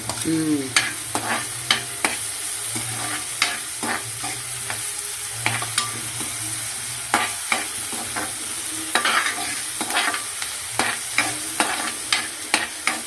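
Garlic sizzles in a hot pan while a utensil stirs it, a steady close frying hiss broken by regular scraping clicks about once a second.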